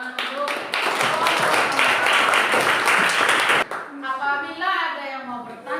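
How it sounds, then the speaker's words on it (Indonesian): Applause from a class of students at an Indonesian university teacher-training session, a dense burst of hand clapping for about three and a half seconds, then fading into voices talking in the room. "Terima kasih, tepuk tangan untuk."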